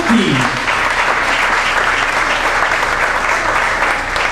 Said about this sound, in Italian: L'applauso naturalmente a tutti